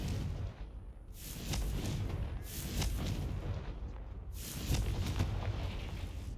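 Repeated fiery spell blasts from the Hogwarts Legacy video game, three or four booming bursts with crackling, rumbling tails layered over a steady low background of game ambience.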